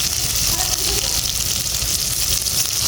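Potato and pointed gourd chunks frying in a pan over a clay stove, a steady close hiss of sizzling oil holding constant for the whole stretch, with no voices.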